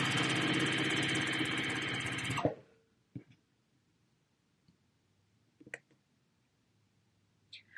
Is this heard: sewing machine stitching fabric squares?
yes